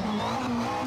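Race car engine in Assetto Corsa, driven in VR on the Pont des Abarines hill climb, holding a steady loud drone with a sustained tonal whine throughout, no talk.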